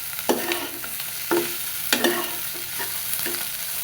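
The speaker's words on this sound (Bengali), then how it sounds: "আবার একটু ভালো মতো নাড়াচাড়া দিয়ে নিই" Hilsa fish with ash gourd stirred in a pan, giving a few scraping strokes over a steady close sizzle, with no talk.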